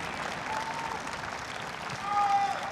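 Convention audience clapping steadily at an actors' panel in Toulouse, a dense wash of applause that swells louder toward the end, with a voice faintly audible underneath.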